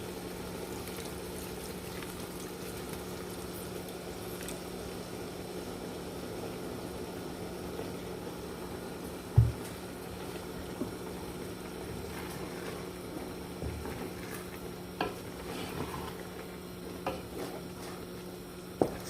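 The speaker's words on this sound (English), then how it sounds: "So that's the juice. I'm gonna add that to our okra." Meat stock sauce poured into an okra stew and stirred, a steady low simmering hum with soft scrapes and a few brief knocks of the spoon against the pot, fairly quiet and continuous.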